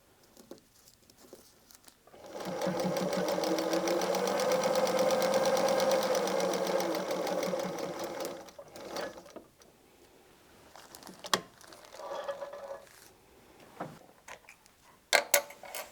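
A sewing machine stitches a paper-pieced palm leaf patchwork block in one steady whirring run of about six seconds, followed by scattered ticks, paper rustles and handling clicks nearby.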